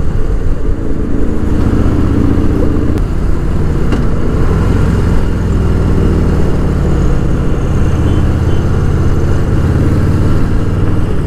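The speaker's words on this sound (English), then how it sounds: "I don't know if you hear my gear downshifting" Steady car engine drone with shifting pitch as the revs change, as the driver downshifts and engine-brakes on a drive in Bangalore, with no talk over it.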